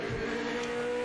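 GT500 race car engine from the racing video game Project Motor Racing, a steady, loud, continuous drone with sustained harmonic tones running throughout the short clip, no voices.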